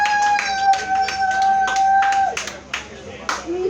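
A comedy show crowd claps and whoops, with sharp clustered hand claps and scattered cheers breaking over a talking voice and ending in louder bursts.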